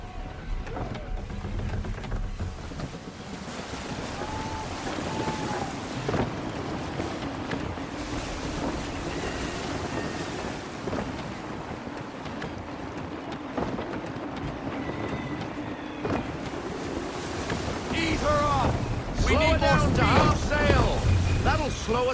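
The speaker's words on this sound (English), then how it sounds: "Gusty winds can be difficult to manage." In Assassin's Creed 3, a sailing ship surges through wind and waves in a steady rushing wash under game music, with voices speaking over it and the sea noise swelling louder near the end.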